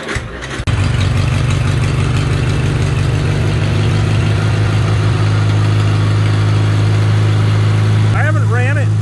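A Farmall tractor engine cranks over and starts, then settles into a loud, steady idle with a rhythmic low chug, close by, and a voice briefly heard near the end.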